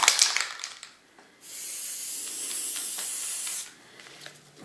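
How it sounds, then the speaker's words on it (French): A can of silver acrylic spray paint sprays in one steady hiss lasting about two seconds, preceded by a faint rattle and followed by quiet. "bombe de peinture acrylique"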